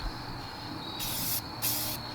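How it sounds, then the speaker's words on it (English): A spray can of sandable gray primer is sprayed onto steel wheels of a Toyota Matrix in two close, steady hissing bursts, each about half a second long, over faint background noise. "just using a sandable gray primer. And you want to hold the can about 12 to 16 inches away from what you're spraying"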